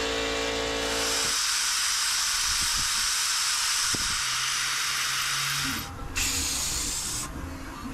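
An aerosol can spray-paints Jeep brake hardware in steady, close, loud hissing bursts, one long continuous spray broken by a short pause before resuming.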